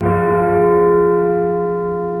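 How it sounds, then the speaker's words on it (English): A deep, hollow hour bell tolls once, loud and close, its rich ringing hum sustaining and slowly fading across the whole stretch with no voices. "He spoke before the hour bell sounded"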